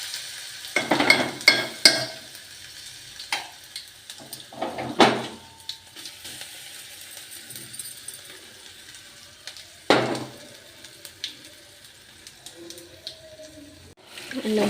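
Green chutney paste for kobbari pachadi drops into a sizzling tempering in a pan, giving a few sharp bursts of sizzle and stirring scrapes between quieter stretches, with a voice speaking at times.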